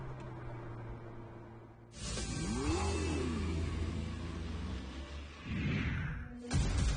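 A Mercedes-AMG A-Class with a 310 kW engine accelerates hard, its rising, swelling engine note building after a quieter start and surging loudly before a brief drop, close and without talk.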